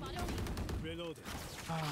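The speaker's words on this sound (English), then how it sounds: "Oh, what the fuck, shots?" Gunfire in the shooter game Valorant, several shots crackling amid game sounds and effects, with a short pause partway through.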